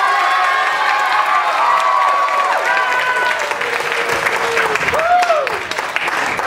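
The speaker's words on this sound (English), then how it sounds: "you have to give the biggest applause you can give" Applause and cheering from a festival crowd at the 2012 Panihati Festival during a magic rope trick show: loud, dense clapping mixed with shouts and whoops, including children's voices, continuing throughout.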